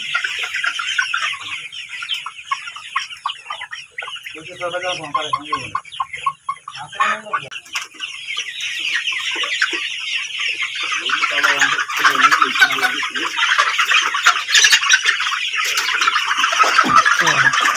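Roosters and chickens on a poultry farm cluck in short bursts and repeated calls over a steady hiss of farmyard noise, growing busier toward the end.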